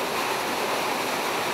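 A waterfall roars nearby outdoors in the Lakes, a dense, steady rush of falling water that fills the whole moment with no pauses and no talking.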